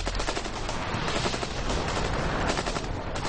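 Loud, close automatic fire from an AK-47 rifle, a continuous rapid stream of shots with no pause.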